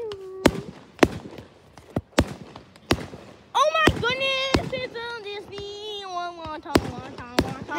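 Festival fireworks in Somerset burst as sharp booms, about a dozen spaced explosions, some close and loud, with crackling trails between, while people talk and chatter over them.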